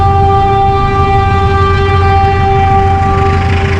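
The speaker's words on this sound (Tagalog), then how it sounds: "Ayan sa ibabaw niya, ayan may dumadaan ditong train." A PNR train rumbles overhead on a rail bridge above the road tunnel at Tomas Claudio Street, a steady loud low drone with sustained tonal hum, continuous and close throughout.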